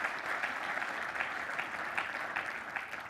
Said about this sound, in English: How about a round of applause for Mike, everybody